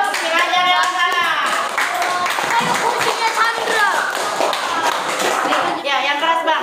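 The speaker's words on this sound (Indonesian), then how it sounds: "tepuk tangan dulu untuk pengajar dewasa" Group of children clapping together for the adult teachers at a school gathering, steady continuous applause with kids' voices and chatter mixed throughout.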